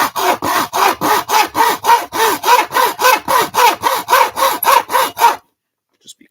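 A hand saw cuts through wood in steady back-and-forth strokes, about fifteen loud rasping passes, then stops abruptly into near silence.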